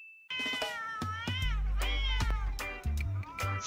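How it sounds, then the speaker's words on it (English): Many cartoon cats meow and caterwaul together in an animated game parody set in a cat kingdom, a dense, loud chorus of overlapping high cries running continuously, with deep thuds and music underneath. "So many cats."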